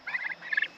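Farm turkeys gobble in one short, rattling burst, close and clear with no other sound around it.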